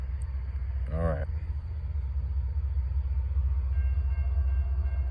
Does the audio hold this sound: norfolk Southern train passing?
yes